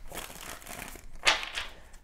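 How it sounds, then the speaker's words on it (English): Tarot cards shuffled by hand, a soft papery riffle and crinkle that swells briefly into one sharper burst of card noise, close and fairly quiet with no talking. "I feel like I need to keep shuffling."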